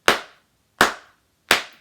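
Junior kindergarten children clap their hands during a bunny song: three sharp, evenly spaced claps, each fading quickly into silence, with no singing or talk in between.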